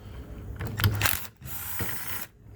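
A ratchet clicks rapidly in two bursts, loosening Torx 27 screws on a Ford 6R80 transmission valve body, close and clear with a short pause between runs.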